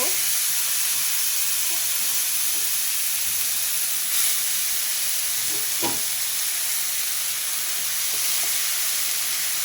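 Kalai greens fry in a hot pan on a stove, producing a loud, continuous steamy hiss and sizzle with a few sharp clicks and knocks of stirring, close up.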